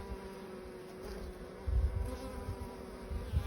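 A continuous low buzzing of black honey bees humming close by, swelling slightly louder partway through, with no voices.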